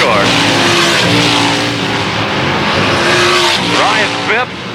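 Race cars on an oval track roar past in a loud, sustained engine drone, with rising and falling whines as they pass close by, under a commentator talking throughout.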